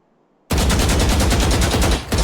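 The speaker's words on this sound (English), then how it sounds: "Hit the central target with sustained fire." Sustained automatic gunfire in the Valorant training range, a loud rapid string of shots beginning abruptly after a short silence, with a brief dip near the end before it resumes.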